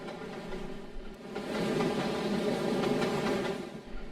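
Long, heavy freight train rolling past in the Trainz video game, a low steady rumble of cars and wheels swelling in the middle and easing off, faint and continuous.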